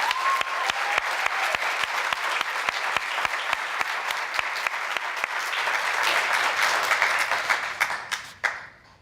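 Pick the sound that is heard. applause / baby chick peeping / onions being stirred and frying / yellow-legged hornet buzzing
applause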